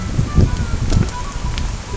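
Strong wind gusts buffet the microphone on an overcast day along the Appalachian Trail, with low rumbling blasts that swell and ease unevenly under a faint airy background.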